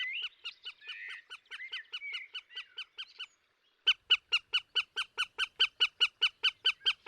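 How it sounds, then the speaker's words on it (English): A female goshawk crying in the Spanish woods while eating prey, repeated sharp rhythmic calls, first mixed with softer chatter, then after a short pause a loud, evenly spaced series of near cries. "It is a female goshawk eating prey caught by the male. She is grateful and cries out her thanks."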